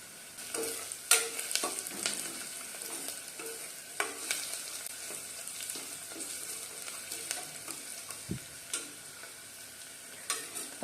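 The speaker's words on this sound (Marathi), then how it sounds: "आपल्या ह्या काजूच्या पाकळ्यांना थोडासा ब्राऊन रंग येईपर्यंत आपल्याला परतायचं हलवायचं आहे" Cashew pieces and onion fry in a pan for matar pulao, giving a faint sizzle broken by repeated scraping and stirring clicks and taps, with no talk.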